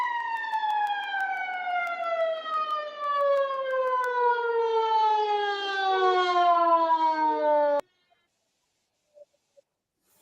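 An ambulance siren wails loudly in one long, slowly falling tone for several seconds, then cuts off abruptly into near silence.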